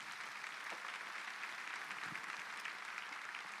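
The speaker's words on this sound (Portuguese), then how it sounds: "Você pode aplaudir a Jesus." A church congregation applauding, a soft, even rush of many hands clapping at a distance with no pauses.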